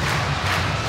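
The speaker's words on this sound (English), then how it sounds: "And the crowd are loving it." An ice hockey crowd at a Sheffield Steelers versus Cardiff Devils EIHL game cheers after a game-tying goal, a steady, full roar of many voices filling the arena.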